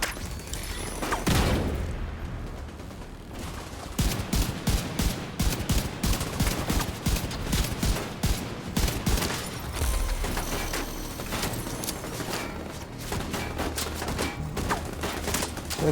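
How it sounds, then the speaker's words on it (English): Gunfire in The Division 2 during a control point fight: rapid, loud bursts of automatic fire and shots run almost continuously, with a heavier grenade launcher blast early on, all without speech. "That is hell of a shot with a grenade launcher."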